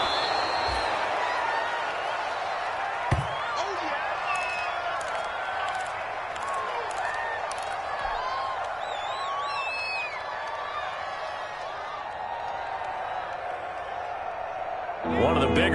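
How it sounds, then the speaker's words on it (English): Stadium crowd in a PS4 football video game, a steady roar of cheering spectators swelling ahead of a big third down, running continuously with a sharp burst near the start and a rise at the very end. "The crowd getting into it as we come up on a big 3rd down."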